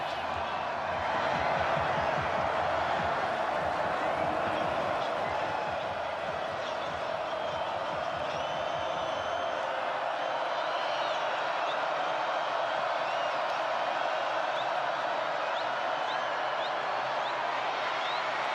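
A stadium crowd roars steadily at a college football game between Georgia Tech and NC State, a dense, sustained wash of cheering and noise throughout, with a low rumble easing in the second half.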